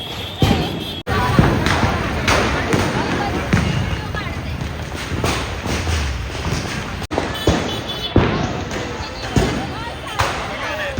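Firecrackers burst repeatedly amid a Diwali festival crowd in Dadar, Mumbai, loud thuds and pops overlapping with dense chatter and voices throughout.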